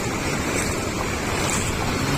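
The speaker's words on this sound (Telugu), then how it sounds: "వాటర్ అయితే అదే ఫోర్స్తోనే పోతుంది." River water rushes hard under the Muddenahalli bridge as a loud, continuous broadband roar with no break and no voices.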